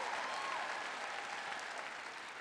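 Church congregation clapping and cheering, a dense, steady wash of applause filling the room with a faint whistle rising through it, continuous and close for the whole stretch.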